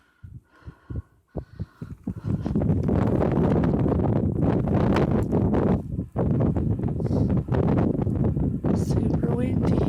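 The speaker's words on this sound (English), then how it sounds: "Super windy." Strong wind roars outside an apartment during a 2016 snow storm, buffeting the microphone in loud continuous gusts after a few opening thumps, with people talking beneath it.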